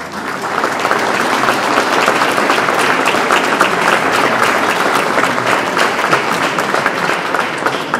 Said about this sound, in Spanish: Para ellos un aplauso.